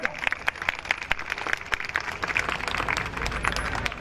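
Scattered, fairly slow clapping from a crowd at a political rally, individual sharp claps standing out in an uneven rhythm over a murmuring background.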